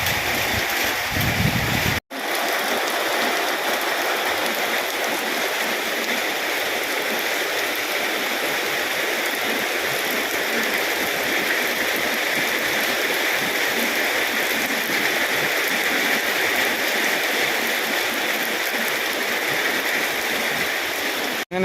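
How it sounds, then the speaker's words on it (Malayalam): Heavy rain hisses in a dense, unbroken wash at Njandirukki waterfall, the steady roar of falling water filling the space after a brief break near the start, with no voices. "ഇവിടം വരെ വന്ന സ്ഥിതിക്ക് ഭയങ്കര മഴയാണിപ്പം."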